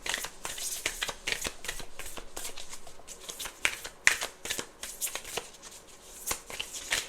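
Tarot cards are shuffled by hand close by, producing a dense run of crisp riffling flutters and slaps that continues throughout with no speech.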